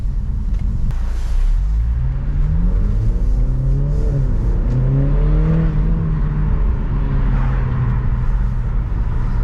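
A 2022 BMW Z4 sDrive with the 2.0-litre engine, in sport mode on a wet road, revs in smooth sweeps. The engine tone climbs, dips and rises again over a steady low rumble, with no talking.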